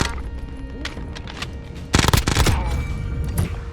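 Rapid pistol gunfire from the video game Warzone, a dense burst of loud shots that rises to a heavier volley partway through with no voices.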